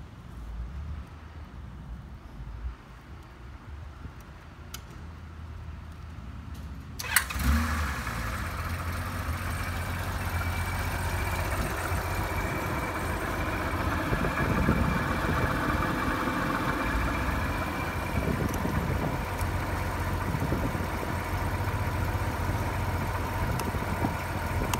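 After several seconds of near quiet, a 1999 Honda Gold Wing GL1500 SE motorcycle with 61,664 miles fires up with a sudden catch, then settles into a steady, even, close idle that continues for almost twenty seconds.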